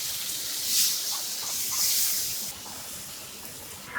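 Water poured into a hot pan of spiced hilsa fish sends up a steamy hiss that swells twice in quick surges, then settles into a softer, steady simmering hiss.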